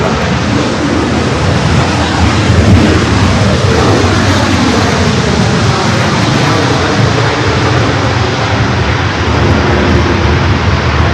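An Air Canada Boeing Dreamliner jet roars loudly and close on takeoff at LAX, a continuous broad engine rumble and whoosh holding steady throughout, with no talk.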